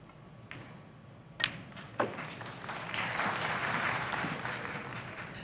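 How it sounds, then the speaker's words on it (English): Snooker arena crowd at the China Championship applauding a frame win, a couple of sharp knocks first, then distant clapping swelling into a steady, moderately loud patter that slowly fades. "those applause might be for another frame on the board from Ding Junhui to make it 5-3"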